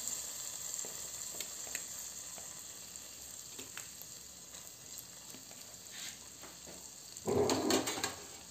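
Onion and garlic sizzle in melted butter in a pan for a chicken stew, a steady crackling fry with brief stirring scrapes, swelling to a louder burst of sizzling near the end; no talking.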